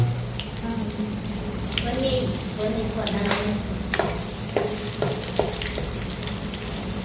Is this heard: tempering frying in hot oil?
yes